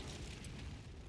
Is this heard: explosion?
yes